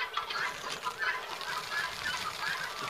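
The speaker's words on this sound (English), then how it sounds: "above those loud birds" Loud birds calling close by in a garden with biochar and buckets, a dense, steady stream of chirps and clucks that fills the whole stretch with no talking.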